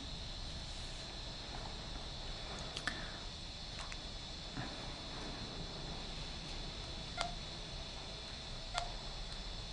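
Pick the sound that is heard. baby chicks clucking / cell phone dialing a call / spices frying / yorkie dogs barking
cell phone dialing a call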